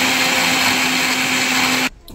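An electric mixer grinder whirs loudly and steadily, grinding spinach with a little water, then stops abruptly near the end.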